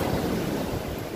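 Sea waves at Poctoy White Beach in Marinduque make a continuous broad roar of surf, with some wind rush on the microphone and no voices.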